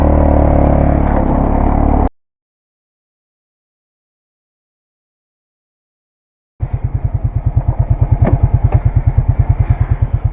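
Four-wheeler ATV engine pulling logs: a loud, close engine roar that cuts out to silence, then a steady rhythmic chugging idle-like thrum.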